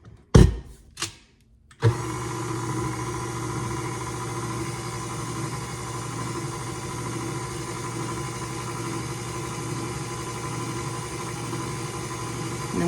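Electric mixer whipping heavy cream: a few bumps and knocks, then the motor starts and runs at a steady, even hum, close and alone.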